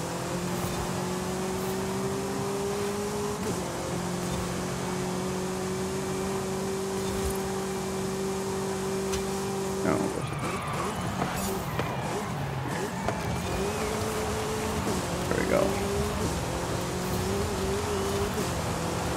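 A Morris Minor's engine in Forza Horizon 5 drones steadily, holding pitch, then shifts up and down as the car accelerates and changes gear, with some clatter and rushing noise midway.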